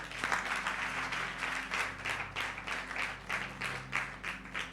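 Church congregation applauds in quick waves of rhythmic clapping, moderately distant and steady throughout.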